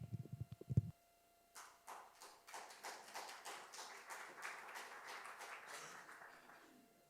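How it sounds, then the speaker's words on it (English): A church congregation claps steadily for several seconds, a soft, fairly distant wash of many hands that starts after a brief pause and slowly fades. "We're clapping for our first-time platform assistant, Marcia"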